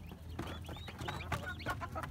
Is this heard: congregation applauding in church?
no